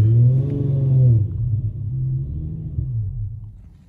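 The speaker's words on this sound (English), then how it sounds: "now that I've installed the tuner, I guess it does something with the computer system, but now I can rev my car" A car engine fitted with a Powertune tuning module revs up, rumbling deep and close, then settles back and fades toward a lower idle.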